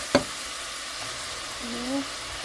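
Hamburger meat cooks in a pan for a frugal southwest rice dish, with a soft, steady sizzle under a sharp knock at the start and a brief faint voice.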